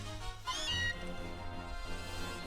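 Short synthesized cat meows from a Pokémon video game, a couple of brief high cries near the start over a steady game music bed.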